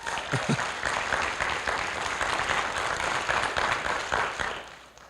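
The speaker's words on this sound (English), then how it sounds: "you can give that a round of applause" A school gym crowd at a high school signing day claps and cheers for an athlete, a sustained roar of applause that holds steady and fades at the end, with a voice briefly audible over it.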